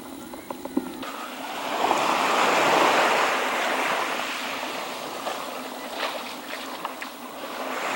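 Surf washing onto the beach at Chałupy, Poland, a steady broad wash of breaking waves that swells after the first second and holds at moderate level, with faint wind and no voices.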